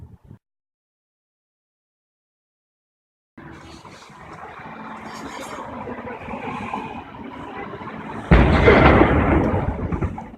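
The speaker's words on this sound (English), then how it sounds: "that was the noon cannon" After several seconds of silence, a distant rumbling swell builds, then Halifax's noon cannon booms heavily over the harbor and rolls away with a long, echoing roar.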